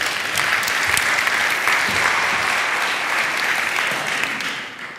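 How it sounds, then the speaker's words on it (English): A conference audience at the Utopia Conference in Berlin applauds, a steady, full roar of clapping throughout that eases slightly toward the end. "Yeah, you're clapping."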